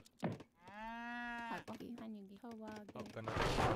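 A cow in the strategy game Age of Empires III gives a long, loud drawn-out moo and then a shorter second one, both close, with a faint crackle of distant game gunfire around them.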